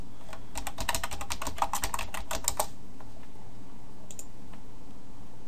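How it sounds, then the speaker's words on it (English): Rapid keystrokes clatter on a computer keyboard for about two and a half seconds, close and crisp, followed by quiet with a couple of isolated clicks. "I'm going to type in my office address."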